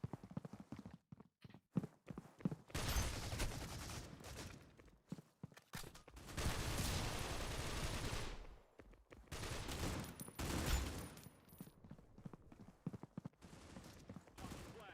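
Rapid gunshots traded in a Counter-Strike-style esports match, sharp cracks and bursts in irregular volleys, moderately loud, with commentators talking between shots.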